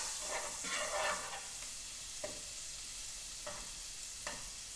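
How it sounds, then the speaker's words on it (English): A whisk working a flour roux in a hot pan, soft rhythmic scraping strokes over a quiet sizzle, with a few sharper isolated taps against the pan. "Keep whisking, and whisking, whisking, whisking."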